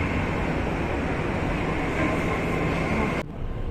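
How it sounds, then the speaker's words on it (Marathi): Steady, dense rumble inside a moving Mumbai Metro train, a loud, even roar of wheels and motors that drops suddenly near the end. "आम्ही आता मेट्रोमधून चाललोय"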